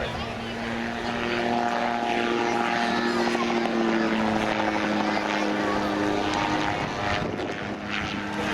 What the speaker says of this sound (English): it's a little propeller there you see on the back of the aircraft that's pushing it through the air for forward flight